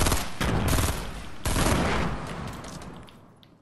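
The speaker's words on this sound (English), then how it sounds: "Bunch of gunshots." Rapid bursts of gunfire in the video game Fortnite Battle Royale crackle loudly, several volleys overlapping, then trail off into fading echoes.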